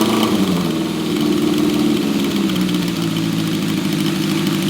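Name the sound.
Honda CB750 motorcycle engine idling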